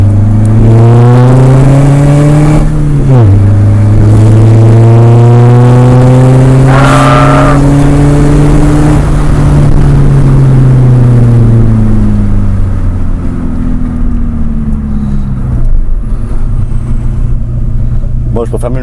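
Audi A3 diesel with only a downpipe pulling away from a standing start, a loud, raw engine note climbing through the revs, dipping at a gear change and rising again before easing off, with speech underneath.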